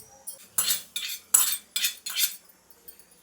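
A spoon stirs mango buttermilk kuzhambu in a pot, making about six sharp, close metallic clinks in an uneven rhythm with quiet gaps between them.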